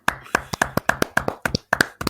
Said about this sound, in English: Little round of applause for Parenthood.